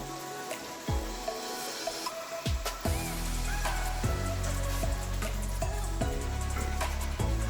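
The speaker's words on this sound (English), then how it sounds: "let that sizzle for a minute before I move on" Steady crackling sizzle of beef gravy cooking in a hot pan, broad and constant, with occasional clinks and taps.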